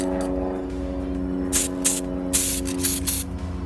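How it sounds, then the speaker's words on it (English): Bursts of matte varnish hiss from a spray can onto handmade miniature stone ruins and terrain, five short pulses in quick succession over a constant low hum. "Then hit it with the spray-on matte varnish of your choice."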